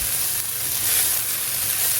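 Rice and vegetables sizzle and fry in a pan being cooked at home, a steady bright hiss throughout with faint stirring scrapes underneath.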